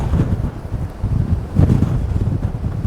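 Strong wind buffets the microphone in continuous roaring gusts on the Cornwall coast, rumbling low and swelling louder toward the end.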